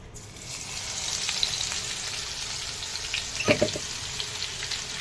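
Ginger paste sizzles steadily in a hot pan of oil while a fish pickle is made, a continuous close frying hiss with a brief stirring clatter partway through.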